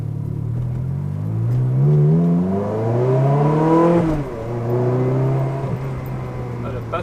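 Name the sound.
BMW M3 engine revving through gear changes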